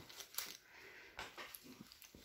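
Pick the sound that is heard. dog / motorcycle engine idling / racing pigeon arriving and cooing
dog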